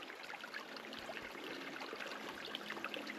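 Cold water running in a stream in Red Rock Canyon, a steady close trickling and splashing hiss with no voices.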